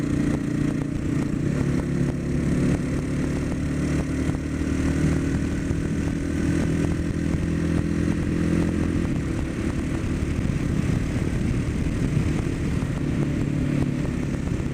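A Suzuki motorcycle with close-ratio gears rides along twisty South Carolina back roads, its engine droning steadily under wind rush and road noise throughout, with no talk.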